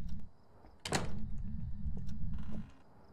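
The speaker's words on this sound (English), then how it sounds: "Can you slam one of the upstairs doors shut?" A door slams shut in the horror game Phasmophobia: one sharp, loud thud with a short rattle, then a steady low hum carries on behind it.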